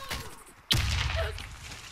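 A Calico M955A fires in Warface with a sudden sharp burst that cuts in partway through, leaving a loud rumbling tail after near silence, with faint game ambience before it.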